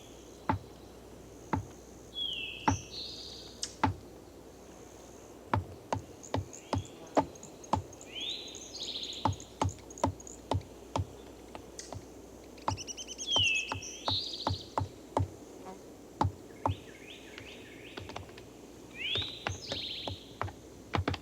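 Woodpeckers call in trees with repeated high, sharp chirps and squeaky notes, mixed with regular dry tapping clicks, in the Florida alligator wetland; close and fairly clear, with no speech.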